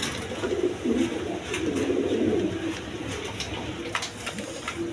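A pair of blackless pet doves sitting on two eggs coo softly and steadily, low murmuring calls repeating close by with faint background noise and no voices.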